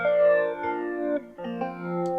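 Electric guitar notes run through a phaser set fully wet, sustained chords with a sweeping, swirling tone that shifts pitch in a couple of steps, played alone and fairly loud.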